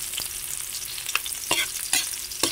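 Ingredients brown in a pan in an outdoor kitchen, a continuous close sizzle broken by several sharp stirring scrapes spaced roughly half a second apart, with no speech.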